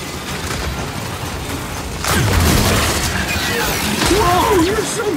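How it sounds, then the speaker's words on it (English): A frag grenade bursts in a shooter video game, a loud boom that swells over ongoing game noise, followed by whistling, whining tones. "Throwing frag!"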